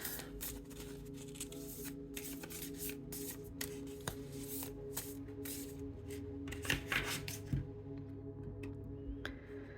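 Quiet, close riffling and flicking of cards, bursts of papery shuffling repeating over several seconds with faint background hum.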